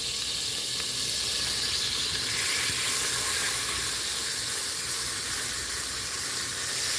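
Loud, steady sizzling and hissing from a pan on a stove during apple crisp pie baking, a continuous bright frying hiss with no pauses and no talking over it.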